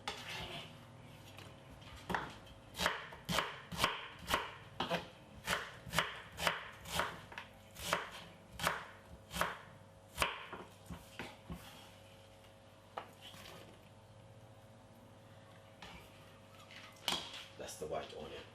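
A knife chops a medium white onion on a cutting board in quick, regular knocks that pause briefly and resume, close and crisp.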